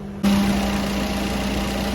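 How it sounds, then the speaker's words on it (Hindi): A car engine with its bonnet open, parked facing another car, catches abruptly and settles into a steady, loud idle with a constant low hum and a mid-range drone, running alone with no talk. "जैसे कि आप देख सकते हैं ये गाड़ी का इंजन स्टार्ट है"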